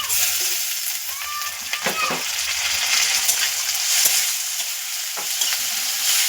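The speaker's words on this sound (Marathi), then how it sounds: "आता मिरची दोन मिनटं परतून झाली की त्यामध्ये आपण टोमॅटो टाकून घेऊया" Green chilies and tomatoes sauté for poha in a hot pan, with a loud continuous sizzle and occasional scraping and clinking of a spatula, close and without talk.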